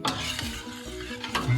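A spoon stirs flour into coq au vin simmering in a pan, making a brief, close, soft scraping and bubbling sizzle.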